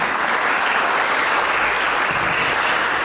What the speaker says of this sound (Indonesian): Lebih meriah, berikan tepuk tangan bagi Tuhan